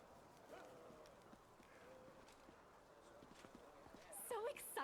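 Horse hooves clip-clop in the Pathfinder: Wrath of the Righteous video game, a steady soft patter under continuous talk and game sounds.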